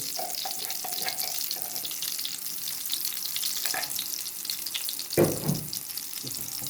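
Garlic frying in ghee gives a steady, close sizzle with light scraping or stirring, then a brief louder clatter near the end.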